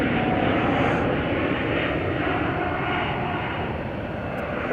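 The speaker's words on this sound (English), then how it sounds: "got Scandinavian Airlines back off to Copenhagen" A Scandinavian Airlines Airbus bound for Copenhagen takes off from Chicago O'Hare, producing a steady, full engine roar that stays loud and even throughout, with no voices.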